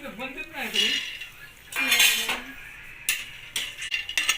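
Peanuts being dry-roasted in a pan, heard as scraping and clinking of a spatula against the metal in short bursts, fairly close, with no talking.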